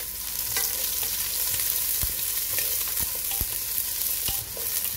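Onion tipped into hot oil fragrant with spices for a quick biryani, raising a loud, dense, continuous sizzle and crackle, with a few sharp clinks of a spoon against the pan, close up.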